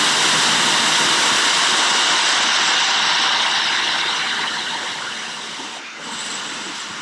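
Turbocharger spun up by blown air during a bench test: a loud, steady high-pitched whir and hiss that fades slightly toward the end.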